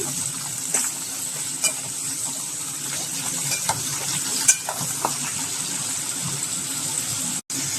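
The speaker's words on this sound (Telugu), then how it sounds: "ఇదిగో ఇలా టమాటాలు కూడా వేసేసాను. ఇప్పుడు ఒకసారి మనం ఇలా కలుపుకున్నాము." Tomatoes frying for chutney sizzle steadily in a pan, with a few light scrapes as they are stirred. A constant hiss carries on throughout, and a brief dropout comes near the end.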